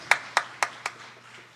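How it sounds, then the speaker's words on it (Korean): Four sharp, evenly spaced unison claps from a church congregation giving a blessing clap after a prayer at a dawn prayer service, each clap ringing briefly in the room before the sound trails off into quiet. "축복의 박수 하겠습니다."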